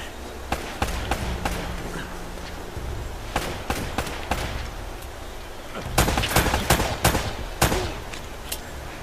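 Scattered gunshots in the action game Uncharted: Drake's Fortune, sharp single cracks and short bursts at irregular intervals, clustering into a heavier exchange near the end over a constant background hiss.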